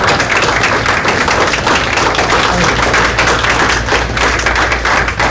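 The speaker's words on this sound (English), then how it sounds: "I want to personally applaud all of you for your service." Dense, steady clapping from a large crowd at a veterans ceremony continues without pause, loud and close, with no voices standing out.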